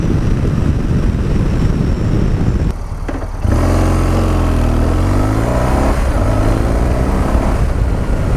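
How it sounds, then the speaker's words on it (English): Loud, continuous engine roar throughout with a brief dip near the middle, then rising and falling revs from four or five dirt bikes nearby. "four or five bikes, dirt bikes. Everybody's going riding today."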